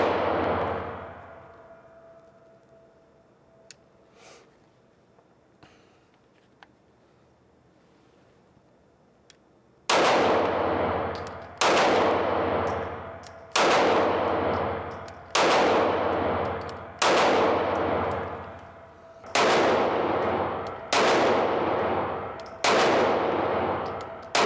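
About nine loud shots from a Taurus G2c 9mm pistol at a shooting range fire at a steady, fairly quick pace, each ringing out sharply after a quiet stretch of outdoor ambience.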